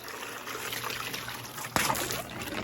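A garden hose runs water into a pool, a steady close trickle and splash with one brief knock near the end and no speech.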